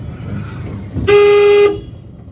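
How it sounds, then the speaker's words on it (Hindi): A single sustained car horn blast, loud and close, lasting about half a second over low road rumble. "horn horn horn"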